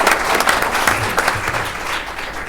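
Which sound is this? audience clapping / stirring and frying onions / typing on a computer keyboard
audience clapping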